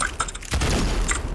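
Gunfire in the Roblox-style shooter game Arsenal, a short burst of booming, rapid shots over a dense, loud game mix lasting barely more than a second.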